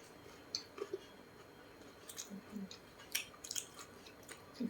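Someone bites and chews crispy honey-glazed fried chicken up close, with soft, intermittent crunches and wet mouth sounds spread over a quiet background.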